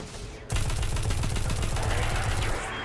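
Sniper and other gunfire in the Destiny 2 video game erupts suddenly into a dense, loud, sustained volley of rapid overlapping shots that continues without pause to the end.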